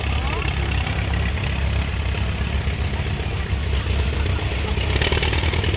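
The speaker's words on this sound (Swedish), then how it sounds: "Här kommer ett par Alice Chalmers." Vintage Allis-Chalmers tractor engines run steadily at a tractor meet, a continuous low mechanical rumble with broadband noise throughout and no distinct pauses.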